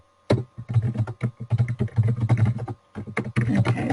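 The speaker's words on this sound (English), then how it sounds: "I'm not very fast at typing" Typing on a computer keyboard, a steady run of close, distinct key clicks with brief pauses, slow and uneven in pace, with no speech.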